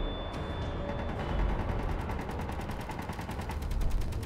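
Rapid automatic gunfire rattles nonstop in Space Engineers as a ship's guns fire at an enemy turret, a dense, even burst of shots sustained from start to finish.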